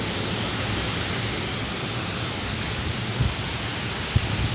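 Light rain falls steadily outdoors, a continuous even hiss with no breaks, moderately loud and broad, with a couple of faint knocks near the end.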